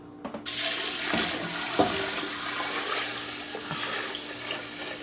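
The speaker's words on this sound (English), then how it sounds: "Now we're going to cover everything in water." Cold water gushes steadily from a tap into a cooking pot of meat with Irish whiskey for a St. Patrick's Day meal, a continuous rushing pour with a couple of faint clunks.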